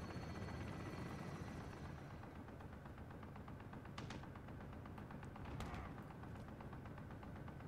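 A chopper gunner helicopter in Call of Duty: Modern Warfare multiplayer whirs with a steady rotor drone while bursts of distant gunfire crackle over it, a continuous loud mix of machine noise and shots.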